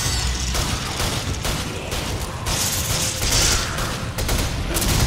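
Gunfire in the Resident Evil 5 video game, a dense, continuous volley of shots and booms layered over a busy game soundtrack, loud and sustained without any talk.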